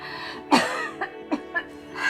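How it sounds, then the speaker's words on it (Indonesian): A sudden harsh cough bursts out, followed by three shorter, softer coughs spaced about a quarter second apart, close by with a faint hum underneath. "Ibu tiba-tiba batuk."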